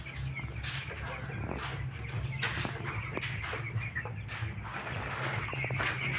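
Chickens cluck and chatter continuously in a poultry farm shed in cold weather, many birds layered together with a low steady hum beneath, close and fairly even in level.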